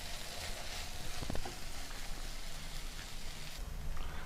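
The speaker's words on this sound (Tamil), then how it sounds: "ஸ்லோலியே வச்சுக்கோங்க, அப்போ தான் வெண்டைக்காய் நல்லா ரோஸ்ட் ஆகும்." Okra (vendakkai) roasting slowly on low flame in a pan, giving a steady close hiss and crackle of frying that runs unbroken, with a brief stirring clatter partway through.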